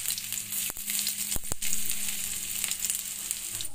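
Chopped ginger frying in a pan in a home kitchen gives a steady, close sizzle, broken by a few sharp clicks and stirring scrapes, with no one talking.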